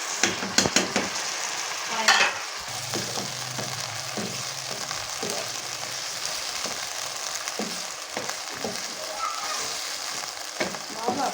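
Chicken with garlic paste sizzles and fries steadily in a pan while shashlik is cooked, with occasional clinks and stirring scrapes over the continuous hiss.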